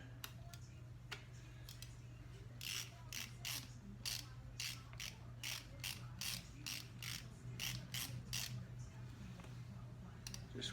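Ratchet wrench tightening top-end bolts on a Norton Commando engine during a rebuild, giving a close series of rhythmic clicking strokes over a steady low hum.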